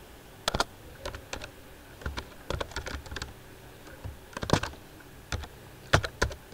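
Program code is typed on a computer keyboard in short bursts of crisp, close key clicks separated by brief pauses, with no talking.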